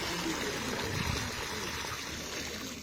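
Water poured steadily onto a newly planted sapling at a tree-planting event, a continuous close splashing trickle that holds an even level throughout, with no speech.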